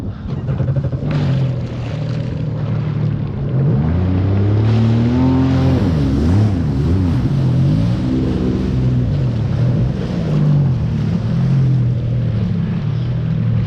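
A motorboat engine roars loudly and continuously as the boat drives across choppy water wakes, with the pitch rising and falling over the waves.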